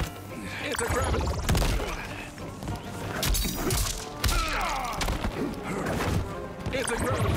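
Heavy thuds, smashes and crashing impacts from Omni-Man's gravity torpedo attack in Mortal Kombat 1, landing in a dense, loud barrage over layered game effects and music with a voice talking throughout.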